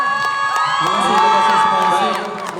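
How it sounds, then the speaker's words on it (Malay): A crowd at a Gema Raya live event in PICC cheers and whoops for Alpha, loud and sustained with rising excited shouts and some clapping mixed in. "saya nak anda semua berikan tepukan yang gemuruh untuk Alpha!"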